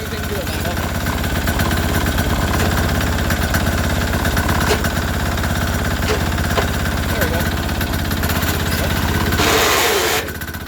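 Sears Suburban garden tractor with a 6HP diesel engine pulls hard in third gear, a loud steady chugging drone throughout that ends in a brief burst near the end.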